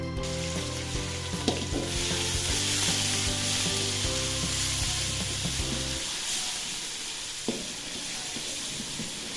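Fish roe frying in a modest amount of oil, with a loud steady sizzle and crackle, occasional pops and stirring clatter, and the hiss easing somewhat toward the end.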